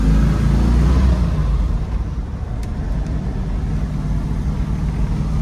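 A 1971 Ford Mustang Boss 351 with its 351 Cleveland V8 drives along, a loud deep engine rumble from inside the car that eases slightly after a second, steady over road noise.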